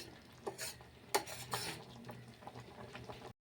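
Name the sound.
stirring sheer khurma in a cooking pot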